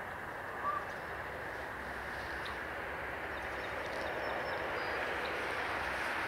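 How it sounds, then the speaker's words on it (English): A heavy BNSF freight train passes fast as a steady, broad rumble and rush of wheels with a wind-like hiss. The sound holds at an even level the whole time, with a faint faraway tone partway through. "He was going pretty fast for a big old heavy freight train."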